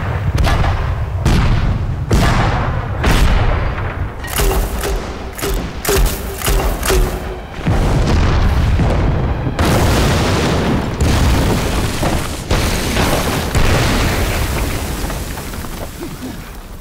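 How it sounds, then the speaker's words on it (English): Tanks firing their cannons in a war film battle at a bridge: heavy, booming shots in rapid, irregular succession, loud and close, with rumbling and blasts running throughout and no pause. "Tanks, open fire."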